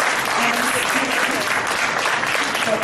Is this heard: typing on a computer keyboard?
no